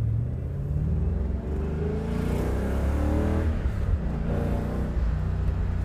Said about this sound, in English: that whine you hear under the hood is not a supercharger. I suspect that my power steering pump is possibly on its last legs